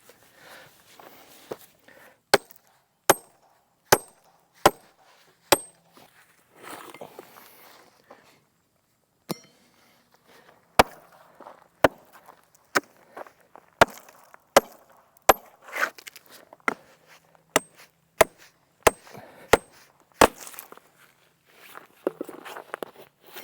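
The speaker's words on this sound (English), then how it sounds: "All right, sledgehammer time." Sharp, isolated impacts of a sledgehammer knocking out stakes ring out one at a time at irregular intervals, some near and loud, others fainter, with quiet shuffling between blows.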